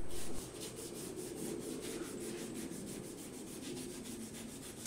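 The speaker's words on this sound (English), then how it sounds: "Use a rag with adhesive remover to clean the mating surface of the crankcase." A rag soaked in adhesive remover wiped across the crankcase mating surface of an MWS pump, a soft continuous rubbing with a faint regular back-and-forth pulse, quiet and alone.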